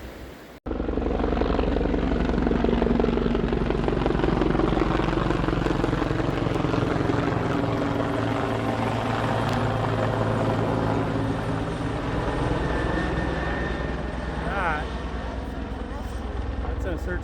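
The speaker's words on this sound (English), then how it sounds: "That's a search and rescue helicopter," A search and rescue helicopter drones steadily overhead on a backpacking trail, with a thick, pulsing rotor chop, loud and sustained throughout after a brief quiet start.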